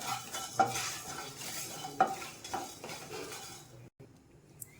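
Black pepper and cumin dry-roast in a pan for country chicken curry, with a soft steady crackle and repeated scraping stirs of a spoon, then a sudden drop to near silence near the end.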